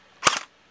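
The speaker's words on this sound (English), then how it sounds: "It has weird blowback, see? It moves." A Han Di MK6 toy gel blaster cycles its blowback action once, a single quick, sharp plastic clack with a brief double snap, close and alone.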